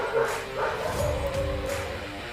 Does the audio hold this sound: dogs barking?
yes